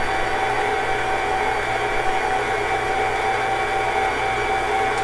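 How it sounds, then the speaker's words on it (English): A stand mixer with a dough hook churns donut dough, and its motor makes a loud, constant whir with an even hum and no breaks. Nobody speaks. "using my dough hook attachment, I'm just going to combine this"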